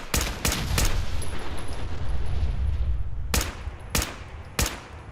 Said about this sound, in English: Always some explosions going on in this stream.